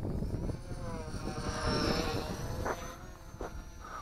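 An XK X520 VTOL RC airplane slope soaring overhead gives a thin, steady electric buzz that rises and falls slightly as it passes at moderate distance, over a constant rush of wind.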